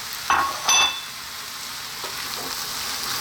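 Roughly chopped whole canned tomatoes dropped into a simmering green lentil vegetable stew, two quick wet splashing bursts up front followed by a low sizzle and faint stirring.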